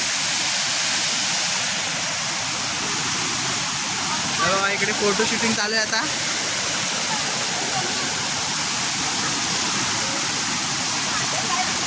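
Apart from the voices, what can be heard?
Panderi waterfall in Mandangad, Konkan, swollen after rain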